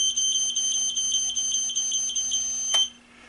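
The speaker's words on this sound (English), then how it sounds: "that long beep says I'm in the center" A long, continuous high-pitched electronic beep from a servo tester marking the servo's center position holds steady for nearly three seconds, ending with a click, then quiet.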